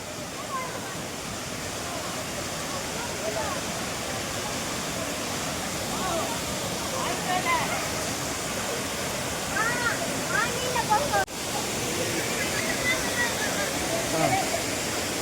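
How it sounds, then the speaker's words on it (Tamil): Lakkom Waterfalls in Kerala pour with a steady, loud roar of rushing water, a dense unbroken wash of white noise heard up close throughout. "இது வந்து மூவ் ஆகினே இருக்கிற தண்ணி செம்ம கூலிங்காக இருக்குது."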